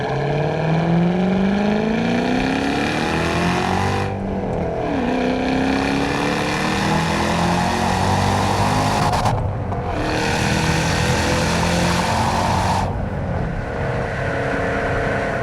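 A supercharged 2007 Shelby GT500 with a 5.4 V8 and six-speed manual accelerates hard, its engine rising in pitch through each gear with brief dips at the shifts, loud and close throughout.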